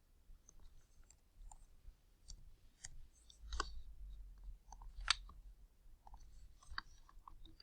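Quick, faint keystroke clicks typing an answer into an online math practice box on a computer, scattered irregular taps close by with no talking.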